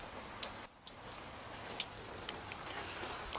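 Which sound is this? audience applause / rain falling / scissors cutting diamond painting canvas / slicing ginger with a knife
rain falling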